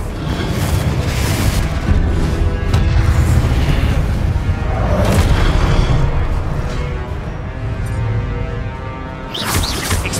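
Loud, rumbling blasts from the Confringo spell in Hogwarts Legacy during a boss fight, booming explosions overlapping into a dense roar with a final burst at the end.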